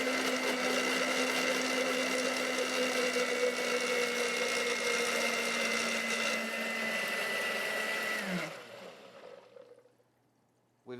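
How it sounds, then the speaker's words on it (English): A blender whirs steadily while blending an apple cider dressing as olive oil is added, a loud, even motor drone that cuts off abruptly near the end and leaves near silence. "So we'll start up the blender."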